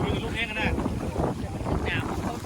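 Wind gusts buffet the microphone on the bank of the Mekong River, making an uneven rumbling roar that rises and falls over a few seconds, with voices faintly mixed in.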